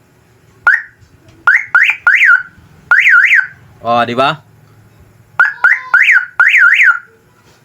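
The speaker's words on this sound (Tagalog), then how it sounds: "Pag ilalagay natin sa battery, busina siya." Loud electronic horn blasts in short bursts, some doubled and tripled, through a small amplifier speaker powered by a battery, used for catching birds, with a brief exclamation in the middle.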